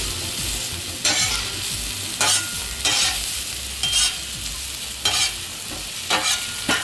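Asparagus sizzles on a hot Hunsaker griddle set on a smoker as it is stirred and tossed, with loud steady frying and periodic scraping bursts from the spatula, no talking.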